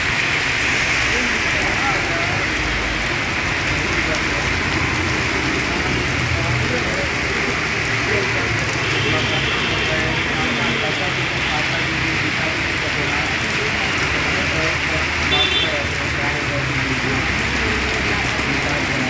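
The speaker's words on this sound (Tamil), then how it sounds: "கனத்த மழை" Heavy rain pours on the streets of Chennai in a dense, constant hiss that stays loud and unbroken throughout, with faint background rumble underneath.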